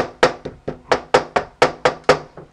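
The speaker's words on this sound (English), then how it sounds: "Tapping it with my hammer." A hammer taps a wooden knot back into the knot hole of a wood window, about ten quick, crisp knocks in a steady rhythm, close and loud with no talking.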